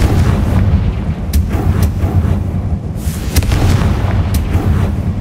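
Confringo fire-blast spell explosions in Hogwarts Legacy, a loud rumbling burst with several sharp cracks and booms over dense low roar, with no voices heard.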